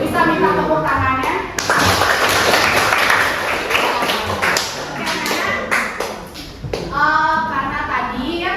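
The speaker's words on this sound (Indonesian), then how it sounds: "Bisa minta tepuk tangannya?" A school class claps together in a brisk, clattering burst of many hands lasting a few seconds, with children's and an adult's voices talking before and after.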